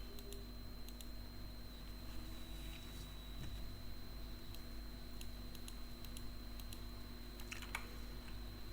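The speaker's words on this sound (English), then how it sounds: "what we'll do is type out main navigation in here" Code typed on a computer keyboard at a desk, scattered quick key taps and short bursts over a steady electrical hum, faint and close with no speech.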